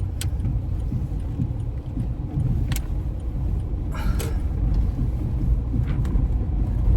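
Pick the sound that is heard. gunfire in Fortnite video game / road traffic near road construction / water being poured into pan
road traffic near road construction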